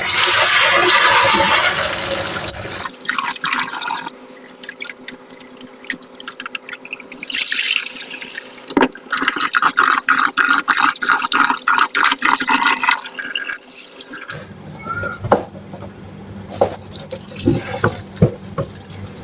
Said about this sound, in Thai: เราก็จะล้างข้าวก่อนนะล้างสักสองน้ำนะคะ เพื่อให้ข้าวสะอาดเนาะ